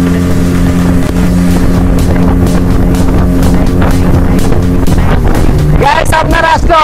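A speedboat ride at Dream Holiday Park in Narsingdi, Bangladesh, with a steady close engine drone and wind rush, and excited voices calling out near the end.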